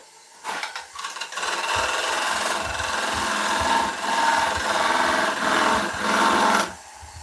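A lathe tool cuts a dovetail tenon into spinning dense hardwood, giving a steady, close scraping and rasping hum that runs for several seconds with small surges, then stops abruptly.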